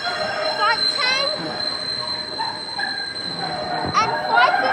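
A SEPTA train passes through Fern Rock station with sharp wheel squeals and screeching tones rising and falling over a steady rumble, loud and close, with a brief voice in between.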